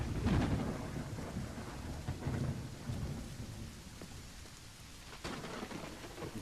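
Steady heavy rain with rolling thunder in the Lovecraftian horror game Call of the Elder Gods, loud and continuous, with a fresh thunder crack near the end.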